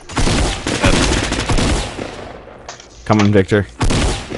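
Rapid gunfire bursts in the video game Fortnite, loud clustered shots crackling in short volleys with talking between and over them.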